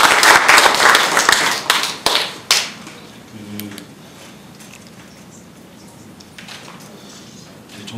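An audience at a forum on the death of Jang Jun-ha claps for a speaker in a short, strong burst lasting a couple of seconds, then dies away into a quiet room with a few faint stray sounds.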